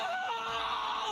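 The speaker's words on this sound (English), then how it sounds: "that was a nice scream!" A character's shrill, drawn-out scream from the video game Danganronpa 2: Goodbye Despair, loud and strained, held steady for about a second with no talk over it.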